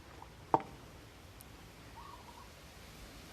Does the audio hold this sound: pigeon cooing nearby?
yes